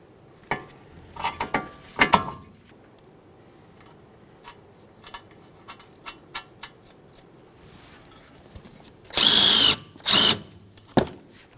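An outer tie rod end nut being started and run down on a Ford Fusion, with short bursts of a power tool, scattered metallic clicks and taps, then two loud sustained rattling bursts near the end, close and otherwise quiet.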